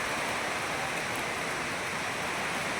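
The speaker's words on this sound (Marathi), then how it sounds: "मुसळधार पाऊस या ठिकाणी सुरू झालेला आहे रस्त्यावर पाणी मोठ्या प्रमाणात साचत आहे" Heavy monsoon rain pours steadily onto a street in Maharashtra, a dense, continuous hiss of falling water with no breaks and no voices.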